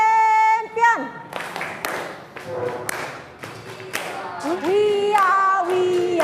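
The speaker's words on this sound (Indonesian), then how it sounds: "Sebelum kita belajar, kita tepuk champion dulu ya." A school class performs a clapping chant. Children's voices join in with rhythmic hand claps and taps, and sharp claps punctuate pauses between the sung phrases.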